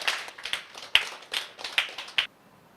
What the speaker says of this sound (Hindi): एक बार तालियां बजाइए आप डॉक्टर पी.के. अग्रवाल